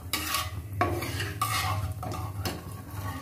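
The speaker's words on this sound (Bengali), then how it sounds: "এখন গোটা জিরেটাকে একটু ভাজবো, যতক্ষণ না জিরেটা একটু ফুটছে আর গন্ধ বেরোচ্ছে সুন্দর।" Whole cumin seeds being fried in oil in a pan while cooking chicken do pyaza, with steady loud stirring and scraping of metal utensils against the pan, in repeated strokes over a continuous low hiss.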